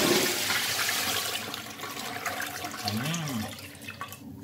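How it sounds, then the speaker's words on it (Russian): A toilet in a renovated combined bathroom flushes with a loud rushing gush that slowly tapers into trickling and gurgling as the tank refills, heard close up and alone. "Смыв."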